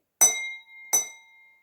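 A spoon taps an empty drinking glass twice, each strike a bright, ringing clink that lingers and fades. The taps are close and clear, with silence around them.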